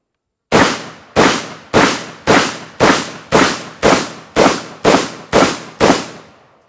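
A Vepr 12 shotgun fires eleven loud, evenly spaced booming shots of mixed double-aught buckshot and slugs, each sharp report decaying quickly before the next, with no talking.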